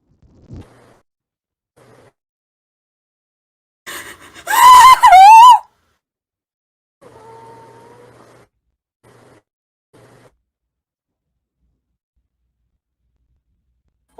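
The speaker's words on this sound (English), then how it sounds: "As soon as I'm gonna let out a scream of frustration" A single loud, strained scream of frustration rises and wavers for under two seconds, then drops into quieter breathy murmurs and small noises against near silence.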